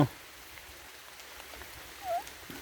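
Light rain falls in the forest while bamboo shoots are being foraged, a faint steady hiss with a brief whistle-like chirp near the end.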